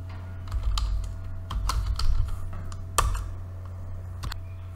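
Rapid, irregular keystrokes on a computer keyboard sound up close, clicking in short bursts over a low steady hum.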